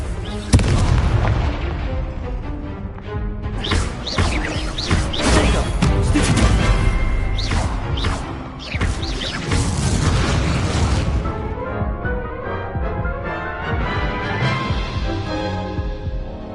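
Repeated booming blasts of Confringo spell explosions in the video game Hogwarts Legacy, dense and loud through the first eleven seconds, then thinning to lighter crackling impacts over a steady game soundscape.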